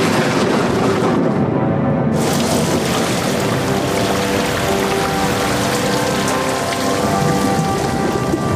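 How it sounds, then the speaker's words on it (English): Heavy rain pours down in a dense, unbroken hiss of drops striking surfaces, loud and close, holding steady throughout with no voices present. "When the atmosphere was saturated, the rain began."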